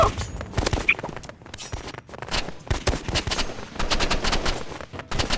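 Video game pistol fire comes in rapid, repeated bursts with sharp cracks, mixed with other busy in-game noises at moderate loudness throughout.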